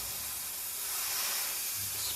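A steady, loud spray hiss from a spray can in the video game Fate of Telos, a continuous broadband rush running unbroken for about two seconds with no voices over it.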